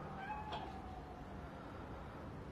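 A cat meows briefly near the start, a short tonal call over steady low background rumble, followed by continuing ambient noise.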